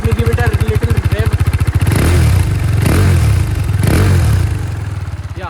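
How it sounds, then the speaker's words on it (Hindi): A 2018 KTM RC 390 motorcycle engine idles with a rapid pulsing thump, then revs up loudly several times, roaring close by before dropping back. "Let me give it a little rev."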